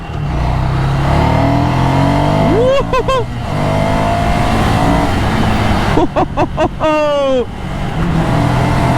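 A Ducati Scrambler motorcycle engine roars loudly and steadily, rising in pitch through quick gear changes as it accelerates, with brief shouts of voices over it.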